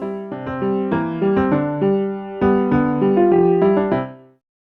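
A two-measure electronic music passage made in the SunVox tracker, with a simple bass line under layered synth tones moving in steady chord changes, loud and clear with no voices, ending abruptly into silence.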